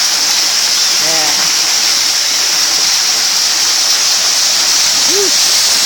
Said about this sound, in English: These are the waterfalls.